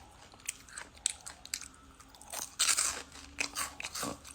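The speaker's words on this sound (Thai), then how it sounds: "ต้องเป็นหัวกุ้ง แล้วมันกรอบมากเลยนะ" Crunchy fried shrimp heads bitten and chewed up close, a series of sharp irregular crunches and crackles, loudest near the middle, with no talk.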